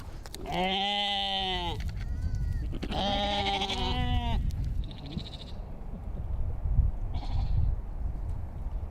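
Sheep grazing a city lawn in Paris give two long, loud wavering bleats close by, then a quieter, shorter bleat over a low background hum.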